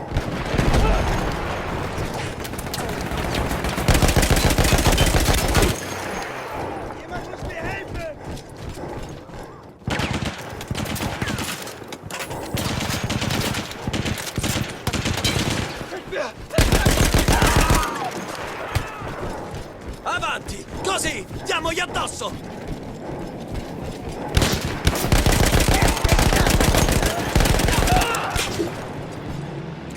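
An emplaced machine gun in a World War I battle in Battlefield 1 fires long, loud, rattling bursts throughout, broken only by brief pauses, while someone shouts orders in Italian over the din.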